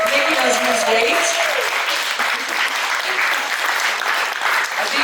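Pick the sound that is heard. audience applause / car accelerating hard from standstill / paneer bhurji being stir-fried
audience applause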